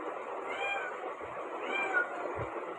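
A cat meows twice, two drawn-out close cries about a second apart, with faint background noise and no talk.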